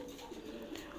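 Domestic pigeons kept in a loft coo nearby, a soft low throaty warble repeating in quick rolling pulses, with gentle background noise.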